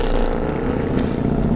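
Naturally aspirated 6.2 liter V8 in a 2014 Mercedes-Benz C63 507 coupe, a loud, steady, close engine rumble holding a constant drone with no break, no voices over it.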